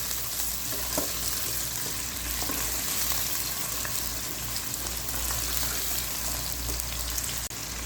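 Chicken pieces fry in oil for a pulao, a constant dense crackling sizzle at an even level that holds for the whole stretch with only faint stirring ticks.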